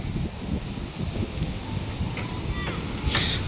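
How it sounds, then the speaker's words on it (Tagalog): Strong wind buffets the microphone at Bagasbas beach, a continuous loud rushing roar with low gusty rumbling that swells slightly toward the end. "sobrang lakas ng hangin guys"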